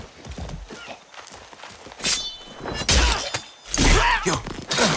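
A horse's hooves clip-clop in the video game Far Cry 6, with scattered thuds at first, then heavier bursts of hoofbeats and a whinny, loud and close.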